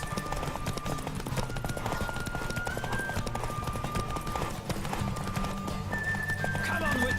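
Galloping horse hooves in The Witcher 3, a steady rapid clip-clop beat running throughout beneath a continuous layer of game music and ambience.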